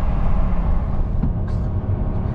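A Ram 1500 pickup towing a 5,200-pound trailer uphill sends out a loud, continuous low engine drone with wind rumble after a downshift, steady throughout with a faint brief tone near the middle.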